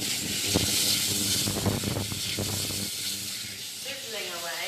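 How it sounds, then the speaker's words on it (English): Pancetta sizzles in a hot pan, a dense continuous crackling hiss with scattered pops and light stirring clatter, close and fairly loud. "Sizzling away."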